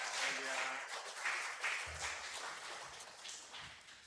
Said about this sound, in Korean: 우리 선교사님 할렐루야로 박수 치면서 모시겠습니다.